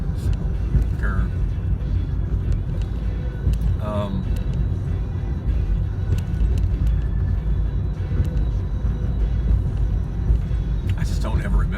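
Steady road traffic on a city's west side on a Friday evening around 7 o'clock, a continuous low rumble of car engines and tires heard from inside a moving vehicle, with a person talking over it.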